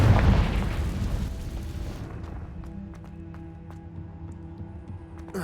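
In the Hogwarts Legacy video game, a Confringo fire spell bursts in a loud, booming blast that rumbles and fades into quieter ambient game sounds.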